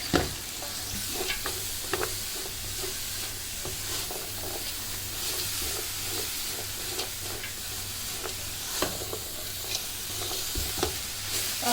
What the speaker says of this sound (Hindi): ये सब्जियों को मैंने हाई फ्लेम के ऊपर 2 से 3 मिनट के लिए कुक किया